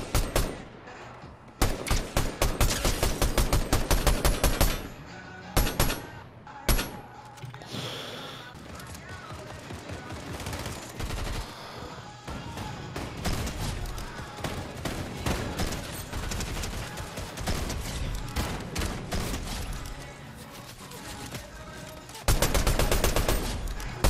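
Rapid video game gunfire, with repeated bursts of shots and loud volleys scattered across a busy, dense stretch of combat noise, while a voice talks in between.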